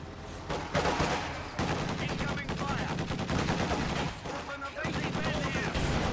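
Dense gunfire fills a World War II strategy game battle, with MG42 machine-gun bursts and Panzerfaust launches against an AA half-track, loud and continuous with layered shots and blasts throughout.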